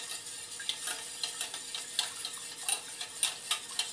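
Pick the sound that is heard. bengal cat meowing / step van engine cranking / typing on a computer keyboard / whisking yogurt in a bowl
whisking yogurt in a bowl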